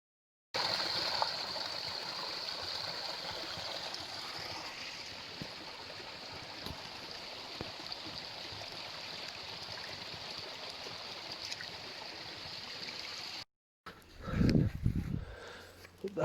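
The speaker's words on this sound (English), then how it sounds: "it's crisscrossed by quite a few little burns and waterfalls" Small burns and waterfalls running through a wood near Loch Glass in the Scottish Highlands, a steady broadband rush of flowing water heard up close for most of the stretch, then a brief louder buffeting near the end.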